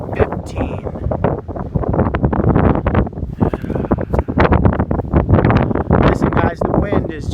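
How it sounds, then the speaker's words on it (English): Strong wind buffets the microphone outdoors in broadband rumbling gusts that run throughout, loud and constant, with a voice speaking over the noise. "The wind is just ridiculous."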